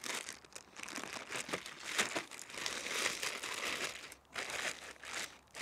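Fishing bait being shaken in a plastic bag with bait powder coating, a steady close crinkling and rustling with rhythmic bursts of plastic noise, no talking.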